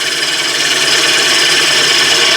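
Wood lathe spinning a bowl blank at 500 RPM while a gouge cuts into the wood, a loud continuous scraping hiss with a steady rhythmic rumble and no speech.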